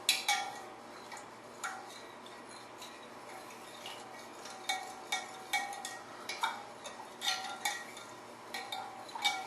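Spoon clinking and scraping in a bowl as hot wing sauce is mixed, a run of light metallic ticks at an irregular rhythm, close and fairly quiet with no talk.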